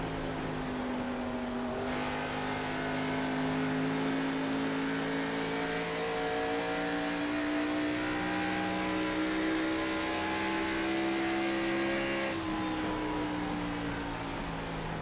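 Xfinity Series stock cars racing in the iRacing sim at Nashville Superspeedway, a sustained engine drone with rising and falling pitch as cars run together, then a change in tone as one pulls away, without voices.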